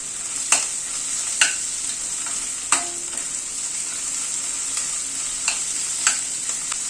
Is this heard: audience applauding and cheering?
no